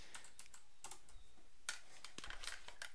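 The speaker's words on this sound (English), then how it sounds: "it is actually the mute button on my keyboard here" A single computer keyboard key, the mute button, is pressed amid a few scattered light clicks and taps, close and fairly quiet, with no talking.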